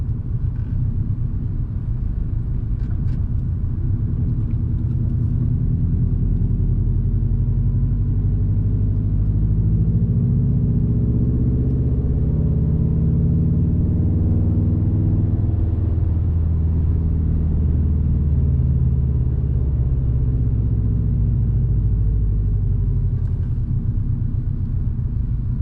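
Subaru STI with a Cobb off-the-shelf tune rumbles steadily while driving, deep low exhaust drone and intake noise rising and falling with revs, continuous and close without talk.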